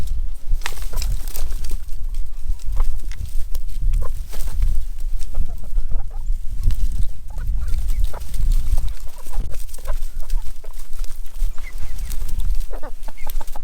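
Backyard chickens cluck and scratch while pecking at a handful of mealworms, a steady close-up chorus of soft clucks and low chatter with rustling throughout.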